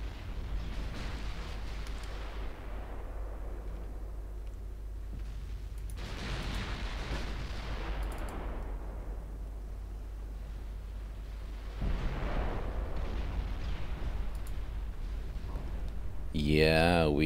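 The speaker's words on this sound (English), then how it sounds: "10 torpedo hits, and we're not done yet" Muffled explosions of torpedo hits on warships boom repeatedly in the naval strategy game Ultimate Admiral Dreadnoughts, several heavy rumbling bursts rising and decaying over a steady low drone, with someone narrating over them.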